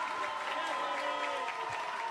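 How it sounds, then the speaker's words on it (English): Spectators at a women's water polo match at the Roses 2025 varsity event cheer and applaud after a penalty goal, a steady dense crowd roar with clapping over an ongoing commentary voice. "Big cheer from the York supporters here."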